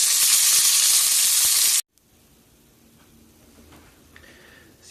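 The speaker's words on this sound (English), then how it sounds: "I'm giving that a minute or two to sear so that fat gets really rendered and juicy and crispy and awesome" A steak's fat cap sears in a hot pan over high heat, giving a loud, dense sizzle for just under two seconds before it cuts off abruptly to near silence.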